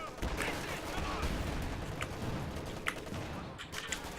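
An MG34 machine gun in Company of Heroes 2 fires bursts of rattling shots with scattered distant battle explosions, mixed under ongoing game noise.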